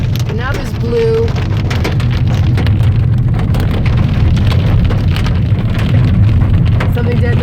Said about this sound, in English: It's mixing with the hail, but it's still hailing.